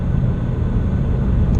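A 400 whp EcoBoost Mustang pulls hard under steady acceleration, its engine drone heard from inside the cabin as a continuous loud rumble with road and wind noise.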